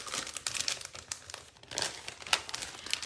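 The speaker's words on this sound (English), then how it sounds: "I am going to cut another piece of DSP" Designer series paper being cut for a card, heard as close, dry crinkling and crisp snips in short irregular bursts, with no talk over it.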